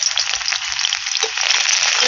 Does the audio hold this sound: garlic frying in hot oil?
yes